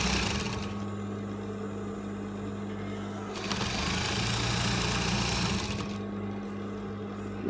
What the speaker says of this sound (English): So let's sew.